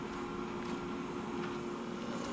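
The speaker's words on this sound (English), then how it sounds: "So I'm over where the pump is for the diffuser, the bubble machine, so excuse the noise" Pond diffuser air pump for a bubble machine runs with a steady, droning mechanical hum and faint hiss beside a catfish pond in winter, continuous and fairly quiet, with no speech.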